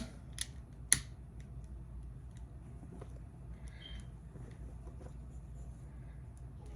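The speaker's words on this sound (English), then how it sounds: "you can cut the extra threads if you want" Scissors trim the extra embroidery threads on an appliqué sweatshirt, with two short, crisp snips near the start followed by a quiet room.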